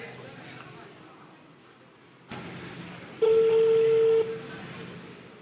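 A phone call rings out as a steady electronic tone lasting about a second, heard over a faint background hum and room noise, with no talk during the ring.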